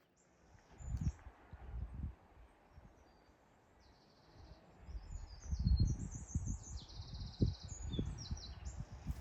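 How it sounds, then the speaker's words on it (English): Birds call and chirp in open Donegal countryside, a scatter of brief high tweets over a soft outdoor background, with low rustling and bumping sounds underneath. "The sound of the birds, the cows and the flies and the bees is all part of nature"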